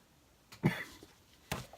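Two short, muffled coughs sound nearby, separated by a pause of about a second, with quiet room tone in between.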